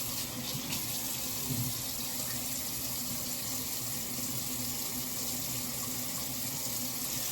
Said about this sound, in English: you wash it 4 times, for sure the water come clean